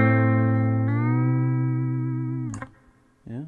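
An electric guitar chord played with bends on in-tune chord-bend strings, its sustained tone shifting upward partway through as it moves from minor to major, then fading out before a brief new strum, no talking.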